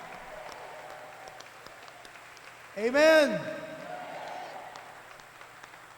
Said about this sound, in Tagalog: pumalakpak sa Panginoon